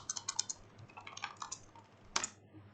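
Keystrokes on a computer keyboard while an event description is typed, irregular bursts of quick clicks with short pauses and a louder cluster near the end, fairly close and alone.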